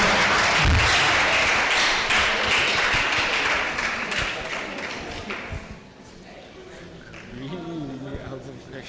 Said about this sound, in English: A round of applause, a round of applause.